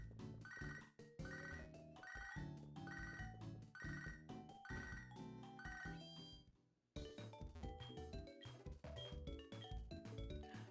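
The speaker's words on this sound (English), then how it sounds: "the phone immediately goes off once you, like, change screens" A phone rings in the Pokemon Sacred Gold video game, a repeating electronic ringtone over looping game music that cuts out briefly and then resumes, with no talking.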